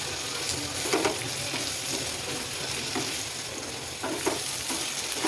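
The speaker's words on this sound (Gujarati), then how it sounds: "વચ્ચે વચ્ચે આપણે હલાવીને ચેક કરતા રહેવાનું" Bitter gourd frying in an open pan, stirred now and then, giving a steady soft sizzle with occasional scraping stirs of a spoon against the pan, close and moderately quiet.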